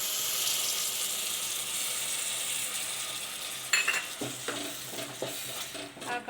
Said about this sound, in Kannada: ಹಾಕೊಂಡು ಫ್ರೈ ಮಾಡ್ಕೊಳ್ಳಿ.